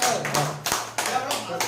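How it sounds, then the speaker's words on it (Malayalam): A short burst of hand clapping comes in uneven bursts over about two seconds at an anniversary gathering of a comedy group in Kannur, with a voice speaking over it. "എല്ലാവരും കൈയടി"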